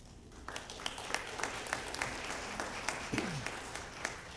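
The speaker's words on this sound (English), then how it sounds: "Let's give them a round of applause." Modest applause at a school board of education meeting, a thin scattering of claps with a few sharper individual hands standing out, fairly quiet and steady, with a brief voice sound near the end.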